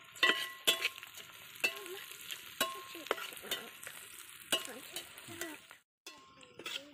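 Onions and garlic fry in a pan for chicken roast, a steady sizzle broken by repeated sharp scrapes and clinks of a spoon stirring, close and fairly loud, with a brief silent gap near the end.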